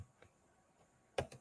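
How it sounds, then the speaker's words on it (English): A few quiet computer keyboard keystrokes, faint isolated taps with a sharper double click near the end, in an otherwise hushed room. "So that's me typing it there."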